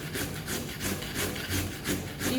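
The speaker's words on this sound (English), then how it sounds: "So I shred the carrot on the biggest side." A carrot is shredded on the coarse side of a grater, giving close, rhythmic rasping strokes repeating about every third of a second.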